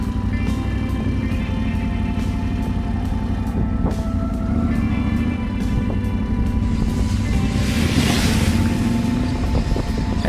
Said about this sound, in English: We also had the optional Akrapovic exhaust. It doesn't add too much to the power curve, but it does give it a nice growl